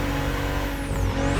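BMW CSL engine accelerating in the racing game The Crew Motorfest, a loud continuous revving drone with a rising whine and tire noise, steady and close with no speech.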